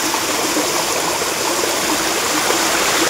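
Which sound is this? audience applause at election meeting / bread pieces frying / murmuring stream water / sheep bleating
murmuring stream water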